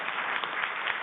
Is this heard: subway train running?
no